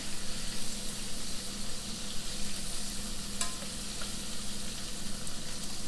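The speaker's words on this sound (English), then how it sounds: "You're going to toss them right there in that sauce." Fried shrimp in a light cornstarch-and-flour batter sizzle steadily as they are tossed in sauce in a hot pan, a constant close hiss and crackle with one or two brief scrapes.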